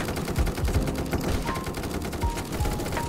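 A sniper rifle fires in an online competitive video game. Several sharp shots crack over continuous game noise at moderate loudness.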